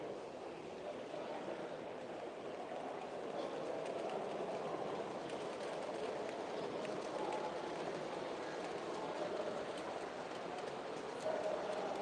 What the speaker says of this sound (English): Get another train coming around.